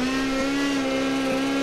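Small drift car sliding up to a wall, a loud steady engine tone holding near constant pitch under a broadband rush of tire and exhaust noise, with two small blips.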